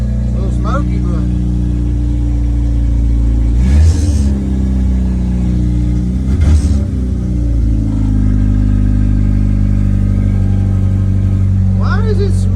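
A Jeep Wrangler YJ engine idles steadily after a cooling-system flush, with a couple of brief revs swelling above the low rumble; a voice talks intermittently over it.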